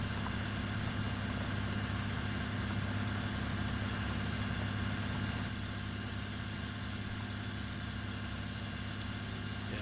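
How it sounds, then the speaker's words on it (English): A tractor engine idles in a farming video game, giving a steady, dense drone with constant low mechanical harmonics throughout and no voices over it. "this tractor's been getting used a lot today"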